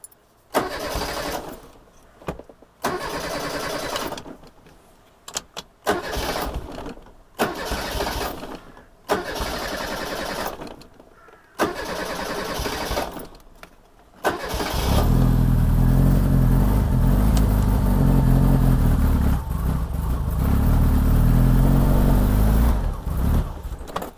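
A barn-find Reliant Rialto car cranks in several stop-start bursts with short gaps, then catches and runs with a loud, steady, close engine note.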